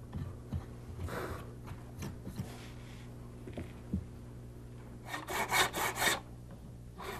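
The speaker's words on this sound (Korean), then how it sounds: "이제 몸체와 뚜껑을 톱으로 분리하는 작업이 이어진다." Scratchy rasping strokes of a hand saw cutting through a wooden block to separate body from lid, a few slow pulls then a quicker, louder burst of back-and-forth sawing near the end.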